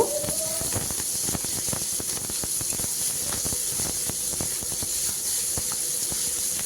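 Two medium onions fry in oil with whole cumin seeds, giving a constant hissing sizzle with dense crackles and pops. The sound is close and loud, with no talking.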